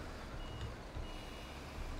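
Truck reversing beeps in Construction Simulator 2015, a faint, regular high beep repeating roughly every half second over a low engine rumble while the vehicle maneuvers.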